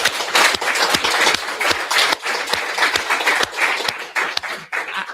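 A crowd applauds loudly and steadily at a graduation-style speech event, many hands clapping in a dense, continuous roar with sharp individual claps standing out throughout.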